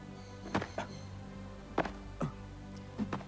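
A tennis racket swung repeatedly at a bird in the survival game The Forest, giving five or six soft, dull thunks in an irregular rhythm over a steady low ambient hum.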